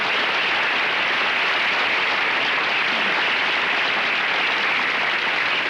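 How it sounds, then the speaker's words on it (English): Dense, steady applause from a large audience at a mentalism stage show, loud and sustained throughout with no talking over it. "you deserve a rather large round of applause"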